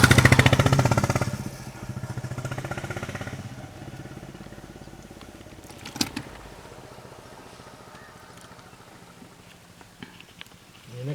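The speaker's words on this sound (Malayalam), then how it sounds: "ആ മോട്ടോർ സൈക്കിളിൽ വരുന്നു എല്ലാവരും." Motorcycles roar past loudly and close on a trip to Gavi, the engine noise dominating the first few seconds before fading into quieter road ambience with a sharp knock midway.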